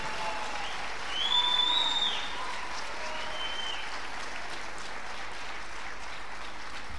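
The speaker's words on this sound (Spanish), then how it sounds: "un aplauso al Señor" A church congregation applauding during a sermon, a brief swell of clapping that settles into steady, moderately loud applause continuing throughout.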